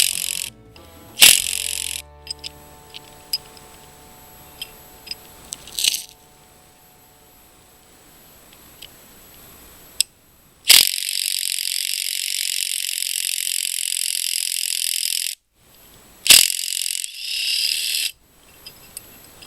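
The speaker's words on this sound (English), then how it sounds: "we're going to put the tool on here, and we're going to go ahead and remove this nut" A lug nut removal tool works loose a wheel nut with sharp mechanical ratcheting and grinding bursts, followed by long loud whirring stretches broken by brief pauses, close and with no talk.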